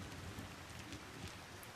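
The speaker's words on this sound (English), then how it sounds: "The rain splashing" Steady rain splashes down in the video game Mandragora, a faint, even patter and hiss that continues without a break.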